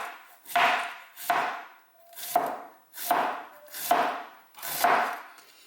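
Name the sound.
knife finely shredding cabbage for sauerkraut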